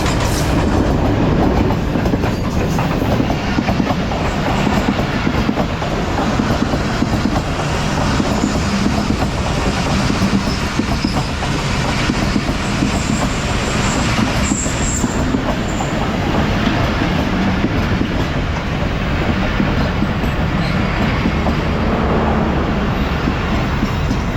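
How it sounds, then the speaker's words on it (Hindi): Pakistan Express hauled by a THA-20 diesel locomotive, a loud, sustained rumble of rolling carriages with rhythmic clickety-clack of wheels over rail joints and a faint high squeal, close by throughout. "आप पाकिस्तान एक्सप्रेस इस टाइम अप्रोच कर रही है THA-20 के साथ"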